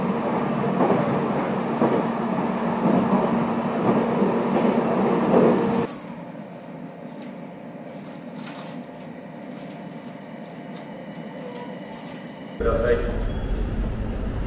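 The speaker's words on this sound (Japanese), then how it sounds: "この電車は東北本線普通仙台行きです" Steady rumble of a Tohoku Main Line local passenger train bound for Sendai, with a sudden drop in noise partway through and a louder burst near the end.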